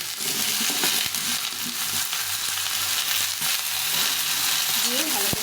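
Eggplant and mixed vegetables frying in a pan, a dense continuous sizzle with occasional scraping stirs, close and loud, no talking.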